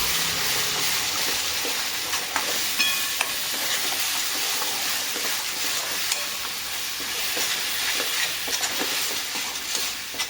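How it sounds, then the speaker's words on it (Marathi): Masala of coriander powder and kitchen king spice mix sizzles in hot oil in a pan while being stirred, for stuffed bitter gourd: a steady, close frying hiss with light scraping clicks, no talking. "आपण हा मसाला असा परतून घ्यायचा"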